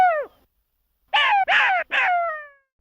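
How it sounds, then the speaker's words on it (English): A jackal gives one short falling cry, then after a pause a run of three loud, harmonic yelping calls in quick succession, close and clear with no other sounds. "Jackal."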